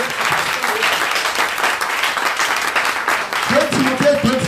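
A church congregation applauds and acclaims Jesus with loud, sustained clapping and crowd cheering, while a voice rises over the applause toward the end.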